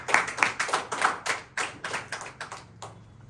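A church congregation claps hands in praise at a Pentecost service. The clapping is close, uneven and somewhat rhythmic, with bursts of many claps rising and falling, and no voices.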